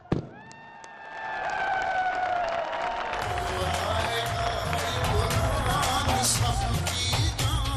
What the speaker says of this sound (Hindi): जरा इमरान खान का, पाकिस्तान की जान, पाकिस्तान की आन का एक दफा फिर कुल के तालियों से इस्तकबाल कर।